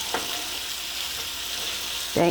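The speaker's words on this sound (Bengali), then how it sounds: "এভাবে আমি আস্তে আস্তে করে এটা ভেজে নেব" Onion and tomato sizzle and fry steadily in a pan, a soft continuous hiss with a brief clatter of stirring near the end.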